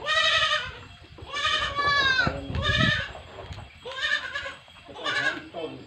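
Goats bleating on a farm, several loud wavering calls one after another close by, with animals calling over each other and faint background noise between cries.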